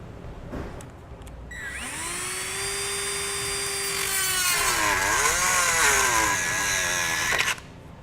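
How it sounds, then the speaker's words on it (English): A rotary tool cutting a plastic tab off the bumper of a 2018 Chevrolet Sonic, its high whine spinning up and holding for several seconds with pitch dips as it bites into the plastic, then stopping abruptly. "I'm going to be using a rotary tool and just make a nice clean cut around there to cut that plastic off"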